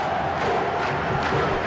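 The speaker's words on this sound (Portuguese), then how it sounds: "ouça Arena Castelão que canta agora comemorando" Football supporters at Arena Castelão during a Brazilian league match between Fortaleza and São Paulo, a massive stadium crowd roaring and chanting in celebration, a steady wall of distant voices with swelling surges.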